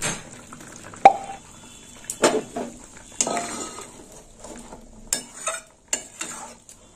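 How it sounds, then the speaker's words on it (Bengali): Fried prawns tipped into a simmering curry of lentil dumplings (bori), followed by a spoon stirring and clinking against the pot, with soft bubbling and sizzle between sharp, irregular scrapes, close and moderately loud. "এবার চিংড়ি মাছ ভাজা দিয়ে দেবো। দেখুন বন্ধুরা, চিংড়ি মাছগুলো ঢেলে দিলাম।"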